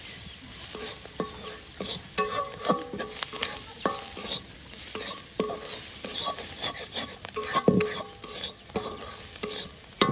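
Ingredients frying in oil during tribal village cooking, a steady sizzle broken by repeated scraping and clattering stirs against the pan, close and fairly loud throughout.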